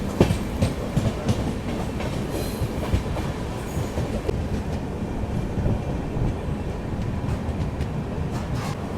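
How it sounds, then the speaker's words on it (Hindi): Shatabdi Express passenger train between Ranchi and Howrah rolling through a forest section toward a junction, with a steady loud rumble and clickety-clack of wheels on rail heard from aboard, continuous with no talk. "जंगल के बीच से गुजर कर शताब्दी अपनी यहाँ पे मुड़ी जंक्शन की ओर बढ़ रही है अभी"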